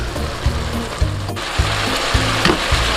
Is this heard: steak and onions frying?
yes